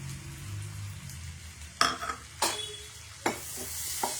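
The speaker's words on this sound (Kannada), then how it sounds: "ಈರುಳ್ಳಿ ಹಾಕ್ಕೊತಿದ್ದೀನಿ." Onions dropped into hot oil in a pan with cumin, sizzling steadily while sharp stirring scrapes and clinks of a utensil against the pan punctuate it several times.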